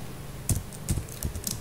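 Code is typed on a computer keyboard: a few distinct, close keystroke clicks land at uneven intervals, with light key noise between them.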